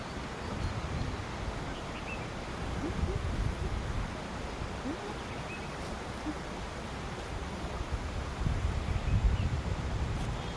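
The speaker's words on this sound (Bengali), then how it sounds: "শুনতে পাবেন এখানে হচ্ছে ঝর্ণার আওয়াজই বেশি পাওয়া যাবে" A waterfall rushes in a steady, even roar, fairly soft and distant, continuing without a break throughout.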